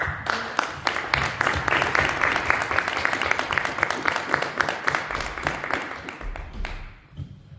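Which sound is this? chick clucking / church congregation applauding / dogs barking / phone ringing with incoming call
church congregation applauding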